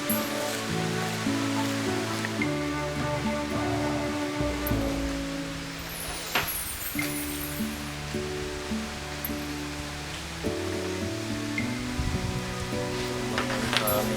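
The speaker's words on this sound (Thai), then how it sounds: "เดี๋ยวนี้ฝนตก ต้องหลบฝนสักหน่อย" Steady rain falls at a cave monastery, a continuous wash of hiss throughout, with a low tonal hum and musical notes running underneath.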